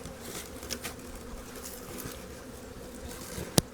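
Honey bees in an opened beehive, with thick propolis going on for winter, fill the air with a dense, steady buzzing; a sharp knock sounds near the end.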